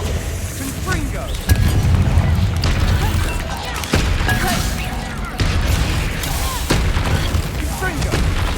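Repeated booming blasts from the Confringo fire spell in Hogwarts Legacy, loud and close over a dense rumbling game soundscape, with several sharp impacts in a row and speech mixed in.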